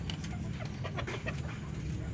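Native Filipino chickens clucking in a farm yard, a dense mix of soft overlapping clucks and chatter from several birds over steady background noise, with no talk.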